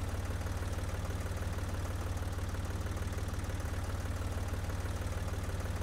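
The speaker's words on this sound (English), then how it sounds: "this tractor's so fast." A tractor engine in the farming video game Professional Farmer 2014 runs steadily, a loud, constant low droning rumble with an even pulsing throb and no pauses, heard alone without talk.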